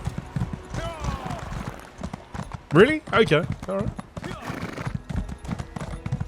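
A horse in Elder Scrolls Online clip-clops steadily at a gallop and gives a brief whinny, under a voice talking in a gameplay session.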